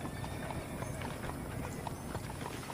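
Horse hooves clip-clop steadily in Red Dead Redemption, a continuous stream of soft, fairly close hoofbeats on a busy background with no talking.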